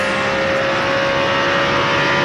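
Over-revving without a gear change, a stock car's engine at the 2002 Pennsylvania 500 screams at roughly 9,000 rpm in one continuous, close, loud drone with a piercing steady whine and no speech.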